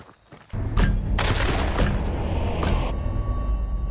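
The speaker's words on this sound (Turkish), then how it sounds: "Elimde pompalı var. Bunun mermisine de basayım." A pump-action shotgun fires in Hunt: Showdown, one sudden loud blast followed by a long rumbling boom and gunfire echoes that linger at full volume, with a second sharp crack near the end.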